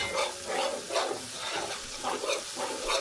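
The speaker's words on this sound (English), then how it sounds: "I want to keep stirring it, checking it." Curry shrimp with potato and okra cooks in a pot, stirred in a steady rhythm of soft scraping strokes roughly every half second over a gentle sizzle and bubbling.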